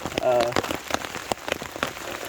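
Rain patters on an underground bushcraft shelter roofed with a poncho during an overnight camp, a close, dense irregular tapping of drops on the surface, steady and fairly loud, with no voices.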